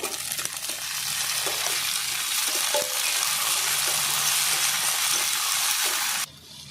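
Spices fry in a pan ahead of the moringa stalks, giving a steady, close, loud sizzle with faint stirring clicks that runs several seconds and then drops off abruptly near the end.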